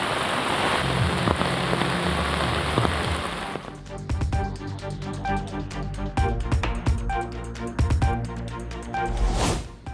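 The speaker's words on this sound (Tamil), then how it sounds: "சென்னையில் 1000 விளக்கு, அண்ணா சாலை உள்ளிட்ட பல்வேறு பகுதிகளில் நள்ளிரவில் மிதமான மழை." Moderate rain falling at night over Chennai streets such as Anna Salai, first a dense steady hiss, then shifting to distinct drops and splashes patting close on a surface, with no voices.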